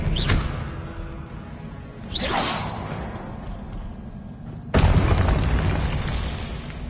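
Casting Expelliarmus in Hogwarts Legacy on PS5 produces three loud whooshing bursts, each a sharp swishing attack that booms and decays, spaced about two seconds apart.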